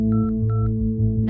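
Telephone keypad tones as a number is dialled on a phone: four short, evenly spaced beeps over a steady low electrical hum, fairly close and clear, with no voices.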